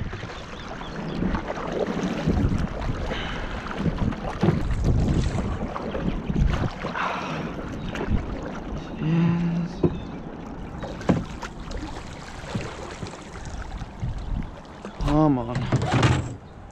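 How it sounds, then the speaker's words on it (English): A kayak is paddled downstream with the current in an estuary, with splashing paddle strokes and water noise under wind buffeting on the microphone and some speech. "A lot easier to paddle on the way down with the current."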